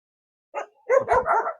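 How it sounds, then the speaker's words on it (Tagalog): A dog barks a few times in quick succession, fairly close, with short yelping barks after a brief single yip. "Uy, tinahulan tayo."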